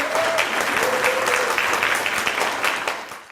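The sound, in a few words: audience applause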